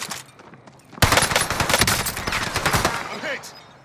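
Loud bursts of rapid gunfire erupt suddenly in a battle royale video game, a dense fusillade of shots that continues for about two seconds before tapering into scattered, quieter rounds.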